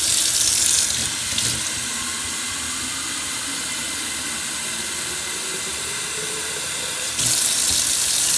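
Tap water runs in a steady, hissing stream for several seconds, fairly loud and close, with no voices.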